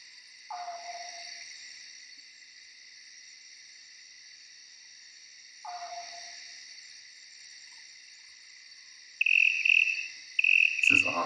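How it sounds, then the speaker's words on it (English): Crickets chirp in a steady, dense high drone that runs throughout, with a couple of faint separate calls in the background and a louder burst of nearby chirping near the end. "Oh, dude, I love crickets."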